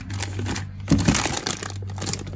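A plastic bag holding frozen tomato paste cubes crinkles and rustles up close, with a couple of sharper crunches and steady handling noise in between.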